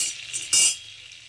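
Two dried red chilies hit hot butter and oil in a pan, giving a short, bright sizzle that swells sharply for a moment, then settles back into a steady low hiss.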